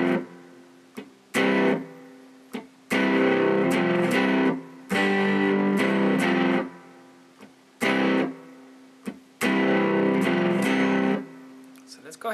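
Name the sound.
second electric guitar part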